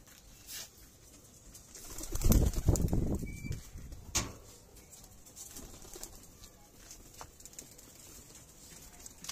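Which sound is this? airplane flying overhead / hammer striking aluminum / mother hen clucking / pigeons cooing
pigeons cooing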